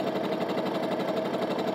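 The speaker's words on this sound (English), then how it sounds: "And I'm going to sew down both sides of it." Sewing machine running steadily as it stitches down both sides of quilt fabric pieces for half-square triangles, a loud, even, continuous whirring hum with no pauses.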